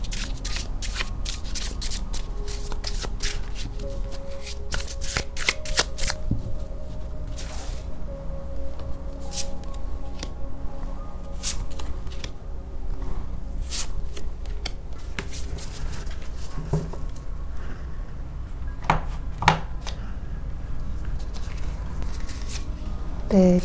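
Tarot cards shuffled and drawn by hand, a steady run of close papery riffles and slides with sharp flicks and snaps throughout, with no talking.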